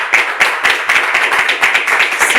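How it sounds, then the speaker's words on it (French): A church congregation claps for a pastor in loud, rhythmic unison, a fast regular beat of sharp hand claps repeating evenly throughout. "On peut applaudir très fort"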